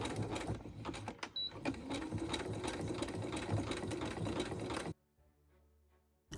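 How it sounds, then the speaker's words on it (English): Sewing machine running a zigzag stitch through a red velvet bow, a steady fast mechanical whirring with rhythmic needle clatter, close and continuous for about five seconds before it stops, leaving near silence. "running that through a zigzag stitch on my machine"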